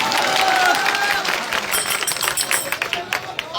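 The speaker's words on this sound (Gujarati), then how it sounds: "એમના માટે જોરદાર તાળીઓ થઈ જાય" Applause for a bhajan singer at a late-night farmers' gathering, a dense crowd clapping that swells briefly and then thins into scattered claps.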